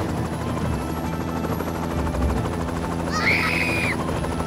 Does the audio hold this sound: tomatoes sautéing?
no